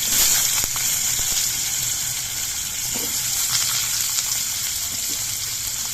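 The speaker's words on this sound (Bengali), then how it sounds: "এবার এর মধ্যে আমি আলুর পিসগুলো দিয়ে দিচ্ছি" Potato pieces frying in hot oil with nigella seeds and slit green chilies, a steady loud hissing sizzle that fills the whole clip with a few faint clicks, close and alone.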